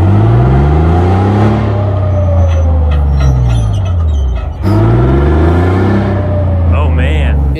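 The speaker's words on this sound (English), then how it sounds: "I kept it revved full throttle for like 5 minutes trying to back up" A life-sized remote control tank's engine roars at full throttle while trying to reverse, a loud continuous rev with rising and falling pitch, one brief dip midway, and faint hissing near the end.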